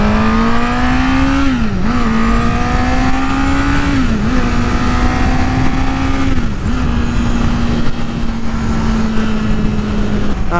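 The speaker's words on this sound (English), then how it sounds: "Acceleration onto the freeway again." Honda CBR1000RR motorcycle pulling onto a freeway, its engine rising steadily through the gears with brief dips at each shift, loud and close with heavy wind rush over the whole stretch.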